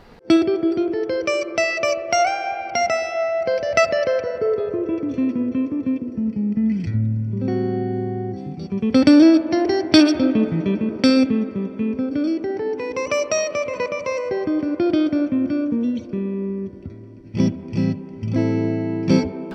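A Fender Twin Reverb amplifier plays clean electric guitar with its reverb turned up to around seven, sounding like flowing melodic lines and chords with long shimmering tails, loud and close, with no talking.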